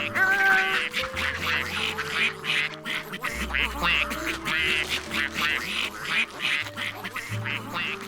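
Cartoon ducks quack repeatedly while being fed by a pond, a busy overlapping chorus of bright nasal quacks over light music, close and lively.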